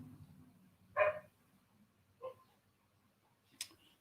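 Puppies bark from inside a home, two or three short separate yips spaced over a few seconds, faint and somewhat distant in a quiet room.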